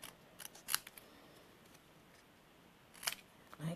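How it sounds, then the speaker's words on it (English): Snips trimming card paper, with two sharp, close cuts separated by a quiet pause and faint rustling between them. "I'm going to take my snips and I'm just going to carefully trim just a hair around each side,"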